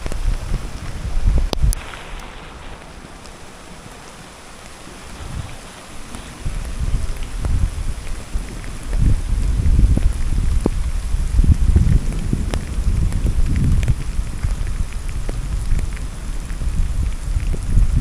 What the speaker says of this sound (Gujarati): વરસાદ છે ચાલુ, વીજળીના કડાકા ભડાકા